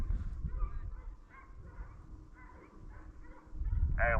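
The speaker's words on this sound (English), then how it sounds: "All those dogs are on the deer, ain't they?" Hunting dogs barking while chasing a deer, distant and faint over steady low outdoor rumble, repeated yelps in loose bursts, with a louder sharp cry close at the very end.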